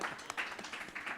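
An audience at a music conference livestream claps briefly, with soft scattered claps close together that stay fairly faint.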